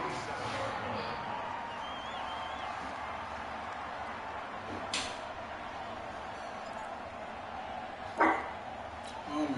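A dog barks intermittently in a room where a Dolphins football game broadcast plays on television, with crowd noise and commentary continuing underneath and a sharper burst near the end.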